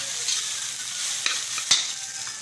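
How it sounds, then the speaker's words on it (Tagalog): Steady hiss of fried rice frying in a pan over high heat, with a few scraping stirs and light clinks, no talking. "Laksan na natin ang apoy para mabilis maluto ang sinangag"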